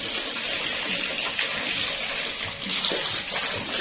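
Water steadily gushing into a backyard pool, a continuous broadband rush that stays loud and even throughout with no talking.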